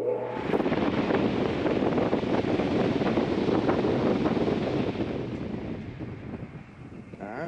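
A replacement attic fan motor spins up with a steady, loud, breathy whoosh of moving air that holds for about five seconds, then eases slightly and keeps running.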